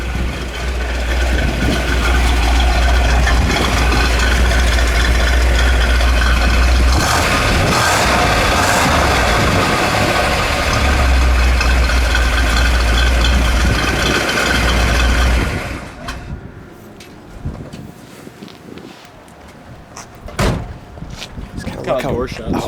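A 1963 Ford Galaxie 500 with the rare B-code 406 V8 idles with a steady, deep, loud exhaust rumble. Voices talk over it until the engine drops away, leaving quieter background noise.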